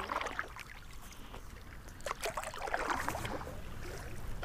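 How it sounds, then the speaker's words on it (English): Paddle strokes from a stand-up paddle board dip and swish through clear water outdoors, soft watery splashes and trickles recurring irregularly at close range without speech. "Now I'm paddling back."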